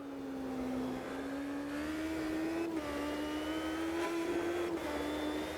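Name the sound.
V8 engine non-turbo race car in Automobilista 2 video game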